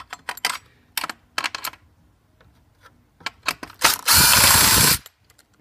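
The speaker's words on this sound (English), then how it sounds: "Get the old Makita out here." A Makita power tool backs screws out of a marine radar antenna, with close ratcheting clicks and mechanical clatter in short bursts, then about a second of loud steady whirring from the motor.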